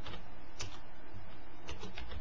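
Keys clicking on a computer keyboard while a command is typed into a Halo modding command prompt: a few scattered, soft keystrokes in short bursts over a steady background hum.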